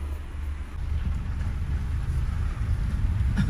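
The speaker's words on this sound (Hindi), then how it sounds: "बाहर तो बारिश हो रही है बड़ी जोर से" Heavy rain pours steadily outside, a dense hiss with a deep low rumble underneath, no voices.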